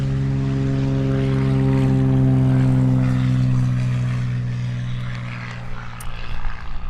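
A two-seat propeller aerobatic aircraft lines up on runway 03 at an aerodrome. Its engine gives a loud, steady droning hum close by, easing slightly toward the end, with no voices.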